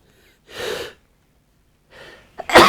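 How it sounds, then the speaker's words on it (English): Two breathy nasal bursts around half a second long, separated by silence, followed by a sharper, louder explosive sneeze-like burst at the end; a person sneezing close by while at a hobby workbench building a miniature model. "I really hate sneezing."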